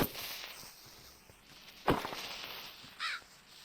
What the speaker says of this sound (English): G'day, crow.